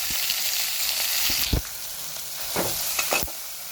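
Onion and green chilli frying in a pan for potato bonda filling, a loud continuous sizzle up close with a few sharp scrapes of a spoon stirring, no talking.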